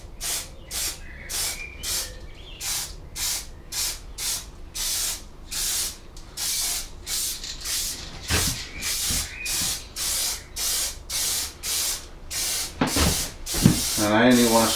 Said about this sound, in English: I don't want to spray the walls